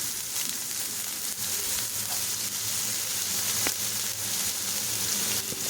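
Raw banana slices fry in hot oil over a medium flame, giving an even, close sizzle with occasional soft knocks as they are stirred to keep them from sticking.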